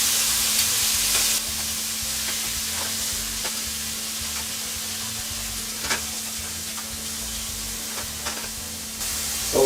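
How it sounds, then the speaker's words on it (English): Pieces of flank steak searing in a hot pan, a loud continuous sizzle with occasional sharper crackles and spits, close and alone without talk. "We're just going to start searing pretty much one side at a time."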